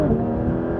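A Porsche GT3 RS pulling hard from first gear gives a loud, close engine roar with rising harmonic tones through a brief burst.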